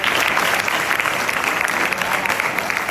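Dense applause fills a school gathering honouring a teacher, steady and close for a few seconds without a break.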